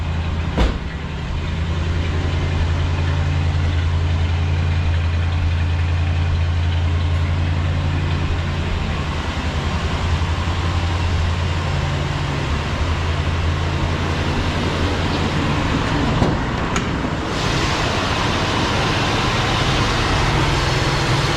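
A 1966 Ford Galaxie 500 idles as it warms to operating temperature after months of sitting, a steady low rumbling drone heard close and continuous, with a couple of brief knocks and no talking.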